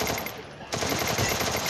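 Rapid automatic gunfire in the mobile battle royale game Garena Free Fire, a dense burst of shots that cuts in sharply partway through and continues steadily to the end, loud and close.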